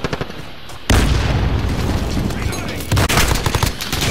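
Loud, dense gunfire in Call of Duty Modern Warfare, rapid booming shots that fill the whole moment after a brief quieter lead-in.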